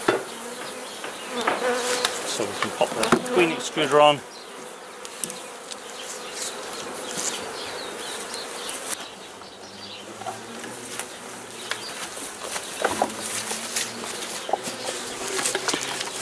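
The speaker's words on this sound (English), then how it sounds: "just do a little bit of gentle smoking just to send the bees down for a minute" Honey bees drone steadily around an open hive during a routine inspection. The dense buzzing continues throughout, with a person talking briefly near the start and light knocks from handling the hive.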